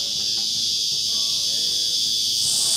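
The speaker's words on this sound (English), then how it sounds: "That is cicadas. In summer, they get super loud." A steady, loud high-pitched summer drone of cicadas in Australia continuing without break, with faint background sounds underneath.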